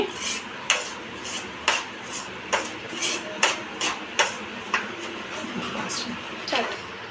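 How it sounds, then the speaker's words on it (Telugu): A spoon scrapes and knocks against a kadai while semolina dry-roasts for upma, with regular sharp clacks about once a second, close and fairly loud over a steady background. "ఇట్లా కలుపుతూనే ఉండాలి."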